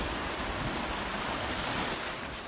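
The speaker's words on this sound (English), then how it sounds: "And here we are with the sea coming up to the edge." Sea waves wash up at the edge of a beach in Jaywick, a steady broadband surf roar with some wind buffeting, continuous and fairly close with no speech.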